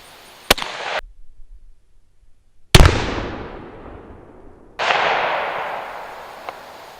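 Gunshots are fired outdoors at a DIY body armor target: three loud, sharp cracks spaced a couple of seconds apart, each trailing off in a long echoing decay.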